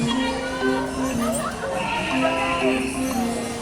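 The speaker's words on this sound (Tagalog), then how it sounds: "Mga kabayo." Horses near a Philippine roadside give a whinny amid steady outdoor bustle, with hooves clip-clopping faintly and people talking nearby throughout.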